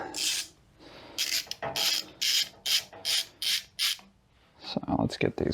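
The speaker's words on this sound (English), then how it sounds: "So let's get these bolts out of here, and then we can pull this pump." A ratchet working loose the pump bolts on a 42RE transmission during a teardown, heard as a series of short, evenly spaced rasping clicks, fairly close, followed by a scraping clatter near the end; no talk.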